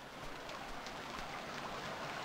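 Steady rain falls in the Stranded Deep survival video game, a dense, even hiss of rainfall that stays constant throughout with faint patters on top and no breaks.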